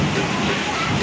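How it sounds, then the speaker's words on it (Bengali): Rainwater leaking through the roof and falling inside a house during a heavy downpour, a continuous close rush and patter of water that fills the whole moment, with a voice faintly present. "সারা ঘরে জল পড়ছে"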